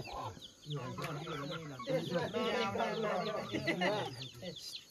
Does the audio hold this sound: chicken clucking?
yes